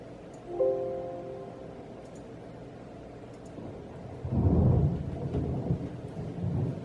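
Thunder rolls during a summer thunderstorm, a low rumble swelling loud and deep midway and lingering over steady rain-like hiss.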